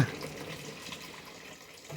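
Water pours steadily from a makeshift DIY shower, producing a soft, continuous splashing hiss at low volume.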